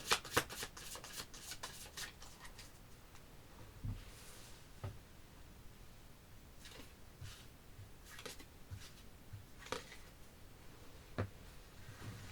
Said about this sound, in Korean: 한번 카드를 뽑아보도록 하겠습니다